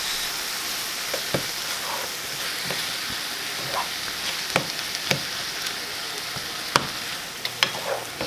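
Beef and poblano tamale pie filling stirred in a hot pan, a steady sizzle with scattered scraping clicks of the spoon, close up with no talking.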